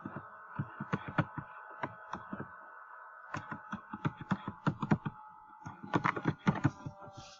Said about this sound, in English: I'm going to just type in the name of the song